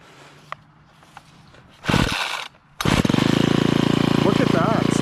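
A Ryobi 30cc four-cycle straight-shaft gas string trimmer is pull-started: a few quiet clicks, a rough sputtering pull, a short pause, then the engine catches and runs at a loud, steady buzzing idle.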